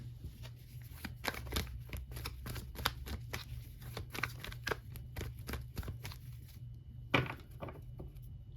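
Tarot cards shuffled by hand in a quiet room, a run of crisp, quick riffling flicks and soft slaps at a close, low level, with a slightly sharper tap near the end.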